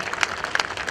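Audience clapping at a live Suheldev Rajbhar birth anniversary political event in Mumbai: a short burst of dense, steady applause from a crowd.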